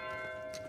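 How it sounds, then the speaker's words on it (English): Bell in the video game Pentiment rings once with a sustained metallic tone, a brief resonant chime ringing out steadily. "Bell ringing. I think that means I have to go to the Abbey."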